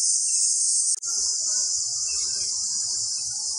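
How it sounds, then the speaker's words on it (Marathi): Crickets trill without pause in a Konkan coastal village near Rajapur, a dense, steady high-pitched chorus that holds at the same level throughout, with a brief dip near the start and faint low rustling underneath. "रातकिड्यांचा आवाज तुम्हाला हा कंटिन्यू रात्रभर चालू होता."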